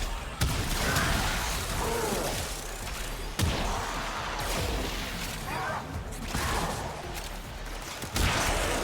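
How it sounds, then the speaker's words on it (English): Explosions and weapon blasts from the video game Warframe, with several sharp bursts among dense continuous combat noise, loud and close throughout. "Those explosions are so nice."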